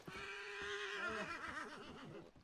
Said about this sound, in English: Hey, you might want to hit your horse. He's very upset for some reason.